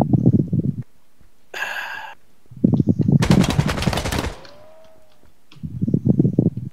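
Automatic rifle fire in the tactical shooter Ground Branch comes in loud, close bursts of rapid shots separated by short pauses, with one longer sustained burst in the middle.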